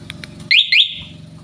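A Rusi Macho 150 motorcycle's aftermarket alarm gives two quick, shrill electronic chirps as it unlocks. The chirps are close and loud, set a beat apart above a low background hum.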